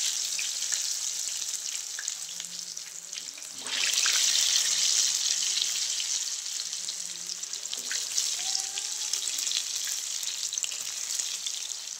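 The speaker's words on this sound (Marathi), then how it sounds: "तेल गरम झाले, आता तळून घेते वड्या" Vadi fritters deep-frying in hot oil give a steady, close hiss that jumps louder about four seconds in as a fresh batch goes into the pan, then settles into a continuous bubbling sizzle.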